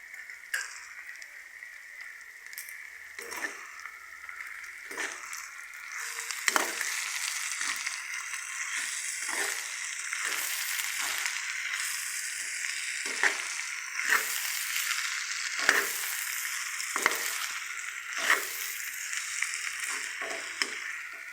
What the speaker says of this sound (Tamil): இந்த மாதிரி நல்லா பொண்ணாக வறுத்துக்கோங்க